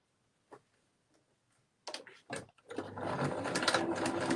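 A sewing machine stitches a fabric gift bag seam: a few faint isolated clicks first, then short bursts as it starts, settling into a loud continuous rapid mechanical whirr close by.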